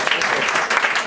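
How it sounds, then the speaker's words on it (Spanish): An audience at a Madrid venue, The Clover House, applauds a speaker being introduced for his book on transgenics, dense close clapping throughout the short moment. "Un aplauso, por favor"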